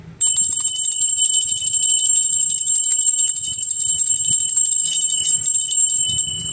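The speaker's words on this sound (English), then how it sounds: "I'm going to ring this bell." A bell rung close by, sustaining a steady bright ringing tone with strong overtones for several seconds, loud and alone, with faint low rustling underneath.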